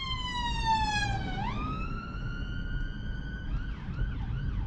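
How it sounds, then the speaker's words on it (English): An ambulance siren wails behind a 2020 Tesla in UK traffic, a steady rising and falling tone over road rumble inside the car, then shifting into a yelping pattern. "Okay, yeah, the ambulance is behind us."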